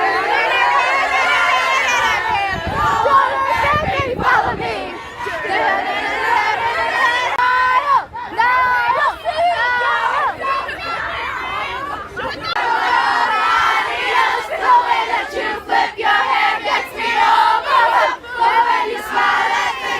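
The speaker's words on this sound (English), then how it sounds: "here are some videos of the crowd chanting and singing" Concert crowd at a show chanting and singing together while waiting for him to appear, a loud, dense wash of many voices with shouts and cheers rising throughout.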